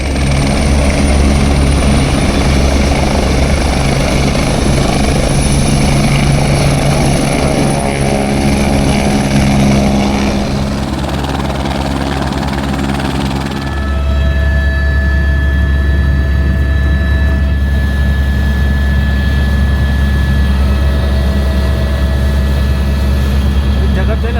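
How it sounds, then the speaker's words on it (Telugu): A loud, continuous helicopter engine whine and rotor thrum at a helipad on the Kedarnath route, shifting in pitch partway through as the engine changes speed. "మళ్ళీ హెలికాప్టర్ స్టార్ట్ అయ్యి"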